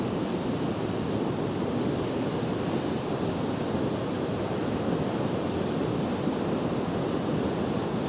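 A debris flow carrying wood rushes down a mountain torrent at Saint-Julien-Montdenis, a steady, dense roar of churning water that holds constant and loud throughout, with no voices.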